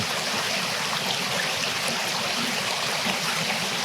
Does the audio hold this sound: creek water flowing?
yes